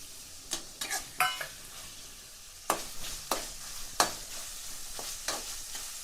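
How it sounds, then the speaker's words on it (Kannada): Tomatoes frying in a pan for bachelor chicken, with soft sizzling under a run of sharp stirring scrapes that come in bursts. "ಓಕೆ, ಇವಾಗ ಟೊಮೊಟೊ ಹಾಕ್ತೀನಿ ನೆಕ್ಸ್ಟು."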